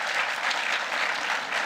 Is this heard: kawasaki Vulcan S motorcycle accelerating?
no